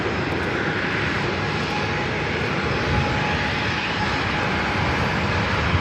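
A NetJets business jet at LAX gives a steady, continuous engine roar that holds at an even level throughout, with no voices.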